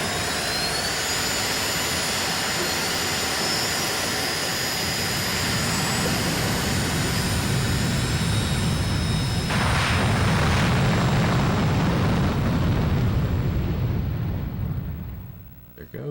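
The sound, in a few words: fighter jet taking off in a video game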